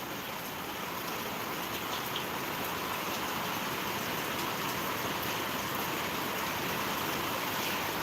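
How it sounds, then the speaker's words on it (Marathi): Heavy monsoon rain pours steadily and loudly throughout in Lohgaon village, a dense unbroken hiss of water drumming on surfaces with no voices. "भावानं मरणाचा पाऊस चालू आहे"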